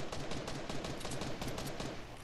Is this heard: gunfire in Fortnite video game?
yes